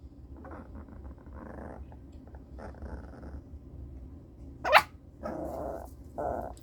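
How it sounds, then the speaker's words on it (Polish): A two-month-old Yorkshire terrier puppy growls at a slipper in short, quiet bursts, with one sharp little bark cutting through near the end, close by in a quiet room. "Szczekasz na mojego kapcia."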